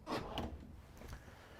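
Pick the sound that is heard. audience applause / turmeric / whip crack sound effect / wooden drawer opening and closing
wooden drawer opening and closing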